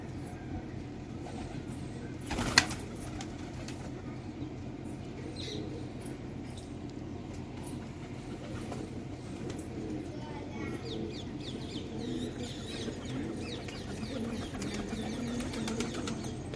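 Pigeons flutter and flap their wings as they come down near a coop, with a loud wingbeat burst early on and soft cooing and rustling throughout. A faint steady hum sits underneath.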